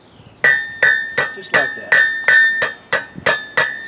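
A blacksmith's hammer peen strikes a hot steel hook over the anvil horn, ringing out in about nine evenly spaced, bright metallic blows, each with a short decaying ring, close and loud, with a brief spoken remark.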